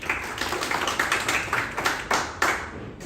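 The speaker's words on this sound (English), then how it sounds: "And a clap for everyone." Several people clap together in a small audience at a community talk, a close, quick series of sharp claps that swells and then trails off.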